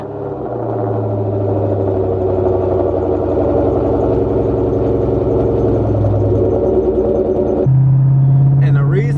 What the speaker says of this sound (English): it wouldn't be a good vlog without a cold start from Peggy